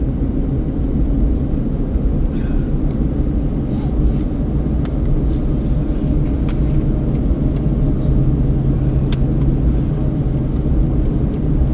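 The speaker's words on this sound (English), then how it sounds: "That place is getting a lot of cars stacking up." Road traffic with cars stacking up forms a steady, dense low rumble of engines and tires that runs unbroken throughout, with no voices.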